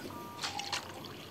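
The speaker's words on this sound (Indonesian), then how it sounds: "aku mau siram dulu ah" A pumpkin plant is watered in the Toca Boca video game with a brief, faint trickling splash of water that lasts well under a second.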